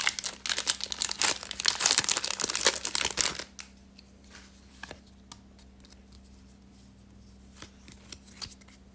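Flesh and Blood booster packs are torn open, with loud, close foil wrapper crinkling and tearing. Softer card shuffling, sliding and tapping follow.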